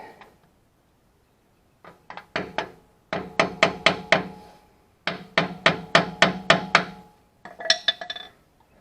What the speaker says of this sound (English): Tap the screwdriver in there, get this to separate a little bit